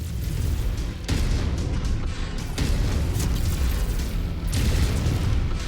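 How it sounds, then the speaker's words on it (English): Artillery shells burst in heavy booming explosions around a mech in MechWarrior 5, with several loud impacts landing close together over a constant low rumble. "they're just dropping artillery on my head"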